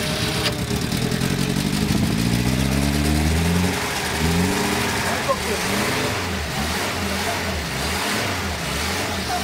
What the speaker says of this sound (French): Alors, le starter est tiré. Voilà, et tu démarres. Accélère.